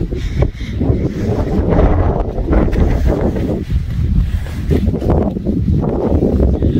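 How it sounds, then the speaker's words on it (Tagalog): Strong wind buffets the microphone on a mountain summit trail at Mount Timbak, in loud, gusting roars that rise and fall unevenly, with no voices. "Lakas ng hangin."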